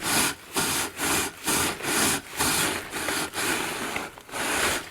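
A chimney brush scrubs up and down inside a coal stove chimney in steady rhythmic strokes, about nine harsh scraping passes in five seconds, each separated by a brief lull, with loose ash rustling down into a bag below.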